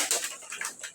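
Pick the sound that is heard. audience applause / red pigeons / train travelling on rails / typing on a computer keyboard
red pigeons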